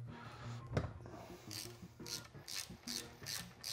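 A ratchet wrench clicks in steady, close repeated bursts while loosening Whitworth bolts on a pre-1968 Triumph 650 motorcycle engine, after a single sharp knock, with no talking.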